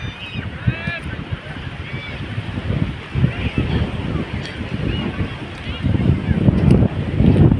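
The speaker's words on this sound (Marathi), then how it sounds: "संध्याकाळ असल्यामुळे आता वारा वगैरे पण खूप खूपच आहे" Strong evening wind on a beach buffets the microphone in a steady low roar, with faint voices and distant chatter mixed underneath.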